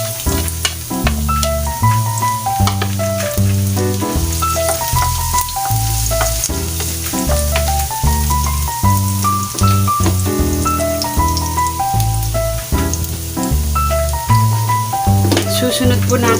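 Garlic sizzling in hot oil in a pan with potatoes, a steady hissing fry under loud background music throughout.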